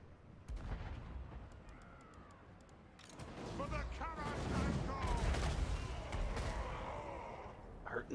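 Artillery and catapults firing on orc troops during a Total War: Warhammer 2 battle, a rumble of cannon fire and impacts over a dense, steady battle din with crowd noise, continuing throughout.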